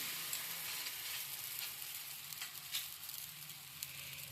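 A stuffed pea (matar) naan laid wet side down on a hot tawa, giving a soft, continuous sizzle with faint crackles, fairly quiet and with no talking.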